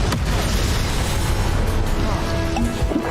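A booming Confringo spell blast in Hogwarts Legacy, loud and rumbling through the whole moment amid continuous combat noise, with a voice calling out over it.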